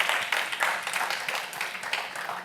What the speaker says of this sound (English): can we get a round of applause for our amazing speaker today?